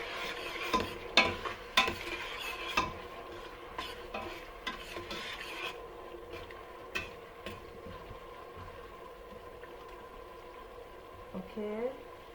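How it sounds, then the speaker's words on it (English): Carrot oil mixture stirred in a pot over low heat, with irregular scraping clinks early on that settle into a soft, steady bubbling simmer. "I'm going to mix everything together"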